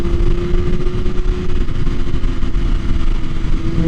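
A 2021 BMW S1000RR fitted with an Akrapovic Evolution exhaust idles with a steady, loud, deep drone and a constant low rumble, close by and without voices.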